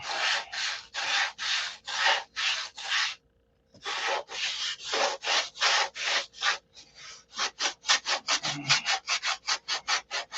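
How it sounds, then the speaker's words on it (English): Rhythmic back-and-forth sanding strokes on a primed model aircraft airfoil, close and distinct, a brief pause partway before the strokes resume and quicken into shorter, faster passes. "So now we're going to sand the airfoil in this thing."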